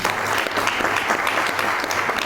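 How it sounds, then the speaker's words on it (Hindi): Brisk, dense applause from an audience at a training session, loud and continuous for a couple of seconds with no voices on top. "ये इसके लिए तो एक जोरदार तालियां होनी चाहिए"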